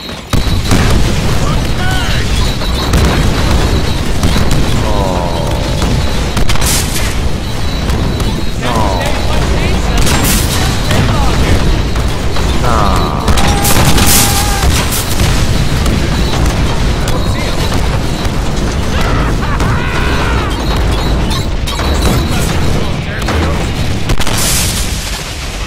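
Grenades detonate in the Deadpool video game as repeated heavy booms and bursts within a loud, continuous action mix, with people talking throughout over the blasts.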